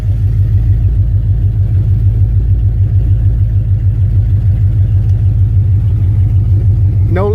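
Car engine running as the vehicle moves forward in drive at night, a loud steady low rumble with a regular pulsing throb throughout and a brief rising whine at the very end.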